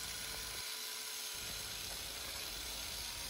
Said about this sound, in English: here I'm using a cheap Harbor Freight Tools angle grinder to cut off the parts that I marked already in black